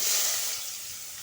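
Onions and green chilies fry in oil on a tawa, giving a short burst of bright, hissing sizzle that eases slightly toward the end. No voices are heard.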